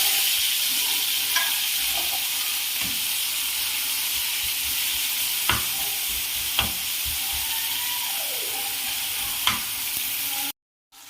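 Tomatoes frying in a pan for a chicken fry, sizzling and hissing steadily up close, with occasional sharp scrapes and taps of a spoon as the mixture is stirred.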